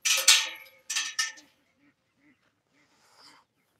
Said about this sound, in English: Duck's making too much noise.